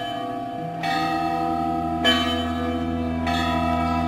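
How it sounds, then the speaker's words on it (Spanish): Church bells ring for a wedding in Montpellier, with sustained, overlapping tolling that swells afresh roughly every second and a quarter, steady and fairly loud, with no voices. "pues suenan campanas de boda"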